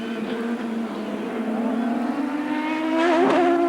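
IndyCar race cars run on a wet track, a loud sustained engine drone with shifting pitch and a rising rev near the end, overlapping cars close by.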